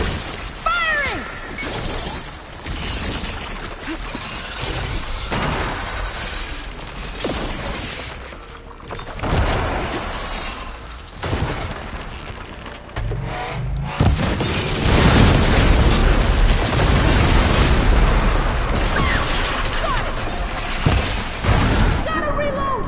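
A ballista fires in Horizon Forbidden West amid a noisy machine battle. Heavy booms and crashing impacts repeat over a constant clatter of combat, and voices sound beneath the din.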